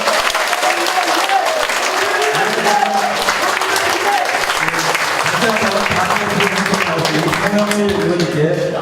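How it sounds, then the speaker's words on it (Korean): A crowd at a political party event in Korea applauds after a speech, with dense, steady clapping that holds for the whole stretch while a voice speaks over it. "다시 한번 뜨거운 박수 부탁드립니다"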